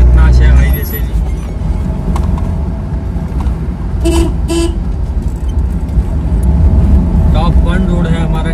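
A vehicle on a new highway runs in third gear, its steady engine and road noise loud and continuous throughout, with a couple of short horn toots midway.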